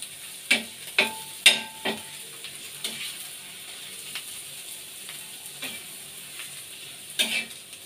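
An egg roll fries in a pan on a gas stove for a home dinner, giving a soft steady sizzle broken by several sharp, close clicks and taps, mostly in the first two seconds.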